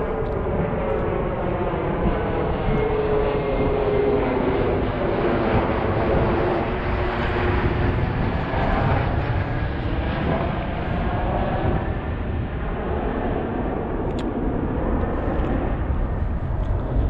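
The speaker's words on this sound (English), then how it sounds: "I flew out on a plane just like that, one of them long, narrow, skinny planes" A long, narrow propeller airplane flying near a fishing spot bound for Alaska produces a steady, loud broadband engine roar that persists unbroken for many seconds, with no voices over it.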